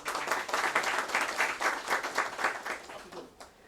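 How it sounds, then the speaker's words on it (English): An audience applauds at a national training awards ceremony, steady dense clapping that continues for several seconds before thinning out and fading toward the end. "Another round of applause for them."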